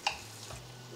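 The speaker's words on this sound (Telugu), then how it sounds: "బటర్ మెల్ట్ అయిన తర్వాత అందులో కొద్దిగా జీలకర్ర, వెల్లుల్లి లైట్గా ఫ్రై చేయండి" Cumin seeds and garlic frying lightly in melted butter, giving a soft, steady sizzle with one brief sharp tick at the start, quiet and close.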